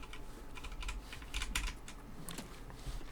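Computer keyboard typing during an Escape From Tarkov game session, quick irregular key clicks and taps close to the microphone, soft and steady with a low background hum.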